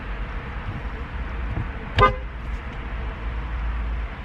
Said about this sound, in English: And she's gonna try to honk it again